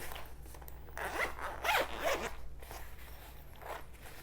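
A zipper is pulled in several short, close strokes, with quiet rustling and handling between the pulls.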